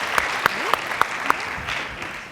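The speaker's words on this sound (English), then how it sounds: "So how about one more round of applause for our fabulous Do Good alums?" Applause from an audience at the Do Good Challenge Finals 2016 fills a hall: a steady wash of clapping with a few sharp, louder claps standing out, and a voice faintly heard under it.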